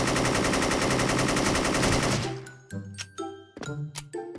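Rapid automatic AN94 rifle fire in the shooter game Special Force, a dense, loud, steady burst lasting about two seconds, then followed by several short metallic clinks and pings.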